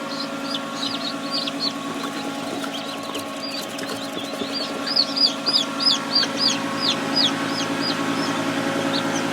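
Crowd of newly hatched chicks from a large batch of about 120 eggs peeping steadily in a box, a dense run of high chirps throughout, with a low hum beneath.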